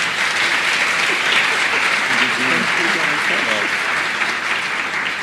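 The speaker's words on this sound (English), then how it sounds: "A round of applause to him." Steady audience applause fills a conference hall at a Kenyan event as a speaker is welcomed on stage, a dense even patter of clapping throughout with faint voices underneath.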